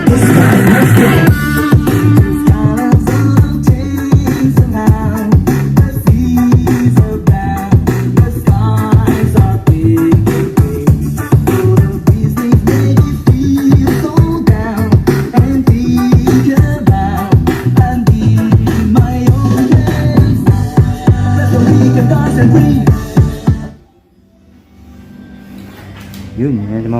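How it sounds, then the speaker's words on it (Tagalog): Sonora A212 Bluetooth speaker box playing a loud beat-driven song with vocals, dense thumping bass and rhythm close up, the music cutting off near the end and followed by quieter room noise. "yung tunog ng A212 na Sonora"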